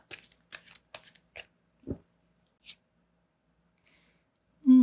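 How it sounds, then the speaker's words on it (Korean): Tarot cards are drawn and shuffled from a deck in a few short, crisp papery flicks with quiet gaps between them, close and soft, followed by a brief voice at the very end. "또 하나의 카드 뽑아보도록 할게요"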